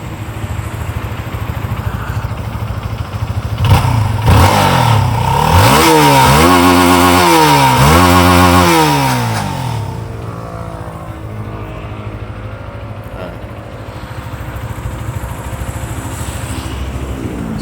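A Z15GT motorcycle engine idles, then revs up hard in a run of rising and falling throttle blips around the middle before settling back to a steady, close idle.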